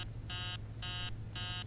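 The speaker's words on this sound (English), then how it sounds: "Alarm clock's so annoying." A digital alarm clock in the Emily Wants to Play Too horror video game sounds three short, evenly spaced electronic beeping bursts over a low steady hum, no speech.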